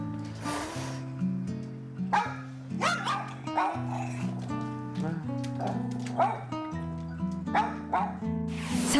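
A dense, continuous chorus of many dogs barking, yipping and howling at once at a dog shelter housing about 300 dogs, loud and overlapping throughout.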